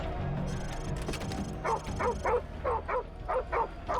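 A dog in Call of Duty: Modern Warfare Remastered barks in quick pairs and triplets over ambient game sounds, fairly loud and close, starting after a brief quieter stretch.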